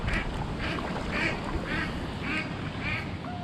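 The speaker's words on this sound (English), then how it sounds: "Ducks. Look at the ducks now, look." Ducks quack repeatedly in short bursts, about six calls spaced evenly over a steady outdoor background hiss on a river navigation.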